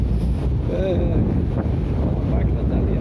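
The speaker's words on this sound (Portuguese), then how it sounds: "Estou pegando um vento aqui, sul gelado" Cold south wind blows across the microphone at the Molhes do Camacho breakwater, a loud, constant rumbling buffet with someone speaking briefly over it.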